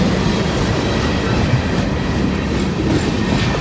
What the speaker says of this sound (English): I see the end of the NS train coming.